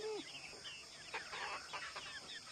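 Chickens cluck faintly on a farm where a goat is giving birth: a few soft, scattered calls and chirps over a quiet, low background, with no one talking.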